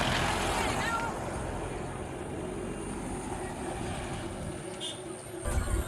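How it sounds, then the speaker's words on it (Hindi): Vehicles pass continuously on a mountain road near Lohri Mallikarjun, heading toward Devalthal, as a steady engine rumble with heavier truck sounds that swell again near the end. "लगातार गाड़ियों का आना जाना चल रहा है।"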